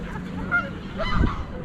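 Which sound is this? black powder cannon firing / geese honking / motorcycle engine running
geese honking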